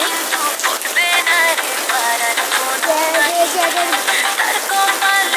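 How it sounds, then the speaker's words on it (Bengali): Heavy rain with hail pours down in Dhaka as a dense, loud, unbroken hiss, with scattered high tonal chirps riding over it. "ভরপুর বৃষ্টি হচ্ছে আমাদের ঢাকায়।"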